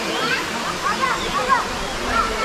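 Spring water at Ein Gedi Nature Reserve in Israel rushes and splashes steadily, a close, continuous wash of flowing water filling the whole stretch.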